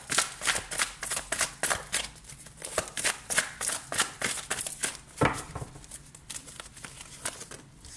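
Tarot cards being shuffled for a love reading, a rapid run of crisp riffling bursts and soft slaps repeating steadily throughout, close and fairly loud with no voice over it.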